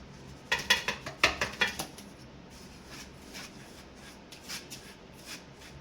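Gram flour is sifted into a dish for chili bhajiya batter: a quick run of dry, rhythmic tapping and rustling up front, then fainter scattered taps, close and with no talk.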